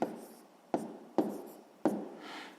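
Pen strokes on paper while a sixth-grade math multiplication is written out by hand, four short scratchy bursts, each with a sharp onset fading into a brief trail, close and quiet with no talking.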